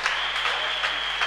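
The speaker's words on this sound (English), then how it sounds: "Clap for Dr. Jesus, everybody!" A church congregation claps together in loud, dense applause that fills the room, steady throughout the brief moment with no voices standing out.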